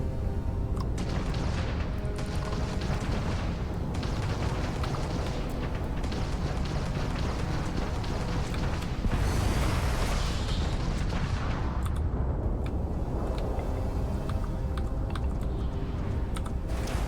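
Particle turrets fire in the space game Starfield, a dense, continuous barrage of crackling blasts and booms that stays loud throughout, with no talk.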